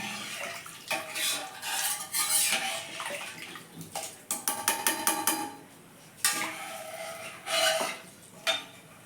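Biryani mixed with water in a pot, with repeated scraping and sloshing strokes of a spoon against the metal and a quick burst of rattling clinks midway, close by, no talking.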